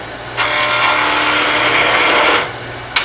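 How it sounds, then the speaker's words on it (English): A hand tool resting against wood and cutting into it, giving a loud, close rasping scrape that runs steadily for about two seconds before stopping, followed by a brief click. "resting the tool against the wood, letting it cut"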